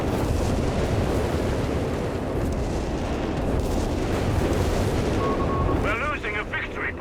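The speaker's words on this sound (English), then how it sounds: "We got the Flak 30 with Ace going at it." A Flak 30 anti-aircraft gun keeps up rapid, dense firing in Company of Heroes 3 amid a battle against RAF aircraft, a continuous loud rumble of shots with a commentator talking over it.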